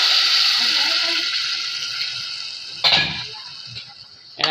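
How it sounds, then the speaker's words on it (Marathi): Water poured into a pot of rice and vegetables for masale bhat, a steady rushing stream that fades, followed by a couple of brief splashy clanks in a home kitchen. "आता यामध्ये मी पाणी सोडते, जेवढं आपल्याला लागते तेवढं भात शिजण्यासाठी।"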